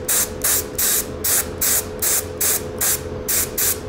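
Two-layer lacquer is sprayed onto a Porsche 9ff center console in short, evenly spaced hissing bursts from a close spray gun, about eight bursts with brief pauses between them.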